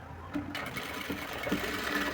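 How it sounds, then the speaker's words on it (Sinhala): Sewing machine stitching a bag, a continuous close whirring hum of the running needle mechanism throughout, with faint handling sounds. "මහනවා."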